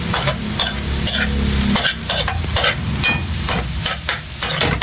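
Turmeric fried rice being stirred in a frying pan, a loud close sizzle broken by rhythmic scraping and clanking strokes of a spatula against the pan, with no talking.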